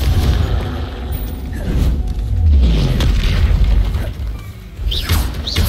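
A Confringo blasting spell explodes in Hogwarts Legacy, a deep booming blast with rumbling low end and crackling debris, loud and close, sustained across several seconds.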